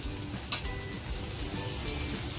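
Black pomfret fish frying in oil in a pan, giving a steady, close sizzle with a brief sharp crackle near the start and faint stirring underneath.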